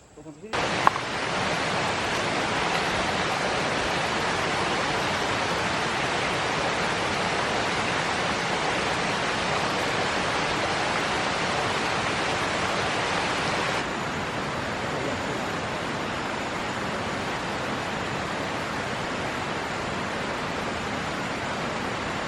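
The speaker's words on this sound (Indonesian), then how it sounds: "Oke sobat, kita sudah sampai di air terjun." Steady, loud broadband roar of rushing water from a forest waterfall, constant throughout with a slight drop partway, heard up close.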